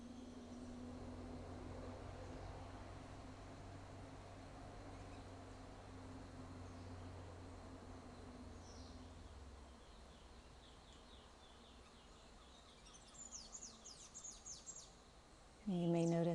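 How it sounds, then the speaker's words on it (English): Birds chirp faintly and sporadically outdoors over a steady wind rush, with a few brief bird calls toward the end; no talking. "the sounds of the wind and the birds in the background around me"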